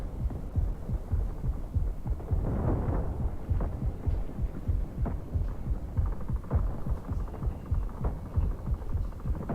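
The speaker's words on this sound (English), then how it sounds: "Artillery barrage incoming." Artillery barrage in the Delta Force shooter game, a run of deep thudding impacts and rumbles repeating irregularly every second or so, heavy low booms throughout.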